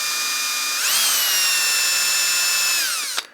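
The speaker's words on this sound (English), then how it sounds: "I'm going to drill the holes on the side right here" A power drill with a brad point bit whines steadily at high pitch boring holes into a rounded piece of wood, revving up near the start, running for about two seconds, then winding down with a brief knock at the end.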